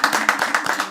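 A gathered group claps in a quick, even rhythm during a holiday celebration at a family home, with sharp, close hand claps repeating about four times a second.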